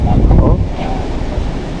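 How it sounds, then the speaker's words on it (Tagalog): Strong typhoon wind roars and buffets against the microphone in a steady, loud rush with heavy low rumble, like surf, without a break through the whole stretch. "Ayan, ang lakas ng hangin, no?"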